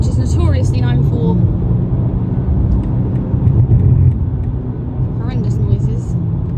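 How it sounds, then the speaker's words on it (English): Low, steady road rumble and tyre roar fill the cabin of a BMW M2 G87 with an S58 engine cruising on the M25 motorway, with someone talking over it throughout. "I'll test it with some road noise on the M25"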